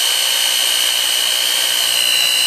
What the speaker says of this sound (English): just walk it down until the bit travels all the way through the hole